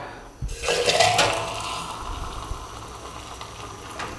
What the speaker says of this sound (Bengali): এই বাটারটা এইভাবে এখানে ঢেলে দিতে হবে।